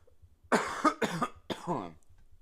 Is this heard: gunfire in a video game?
no